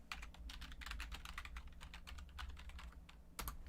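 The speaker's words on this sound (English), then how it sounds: "here, I'll just type it in the chat." Quick, irregular clicks of typing on a computer keyboard patter close by in a steady run of keystrokes, with no talking.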